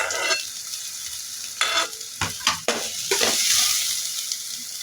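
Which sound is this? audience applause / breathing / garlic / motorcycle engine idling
garlic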